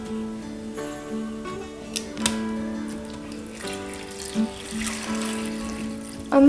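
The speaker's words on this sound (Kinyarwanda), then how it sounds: "Ndangiza nshyiremo amazi." Water pours into a cooking pot of cut potatoes, a soft steady splashing and trickling stream under a background of sustained musical tones, with a brief louder splash near the end.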